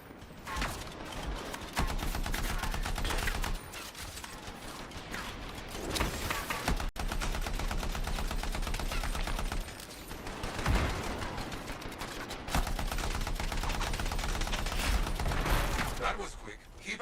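Shooting at turrets in the Anthem video game, long stretches of rapid automatic fire in repeated bursts broken by short pauses, with mechanical clanks and voices talking over the action.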